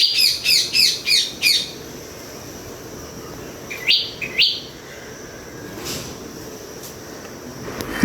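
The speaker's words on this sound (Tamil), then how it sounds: "நம்ம வீட்டு மாமரத்தில் கிளி வந்து கத்திக்கிட்டு இருந்துச்சு அழகாக இருந்துச்சு சவுண்டு அதை ரெக்கார்ட் பண்ணியிருக்கேன்" A parrot in a backyard mango tree gives a rapid series of five loud, harsh squawks, then two more shrill calls a few seconds later, with no talking.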